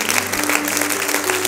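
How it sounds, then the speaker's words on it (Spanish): A church congregation applauds after a prayer, a brief, even wash of many hands clapping at once, fairly close and filling the room. "Denle un aplauso."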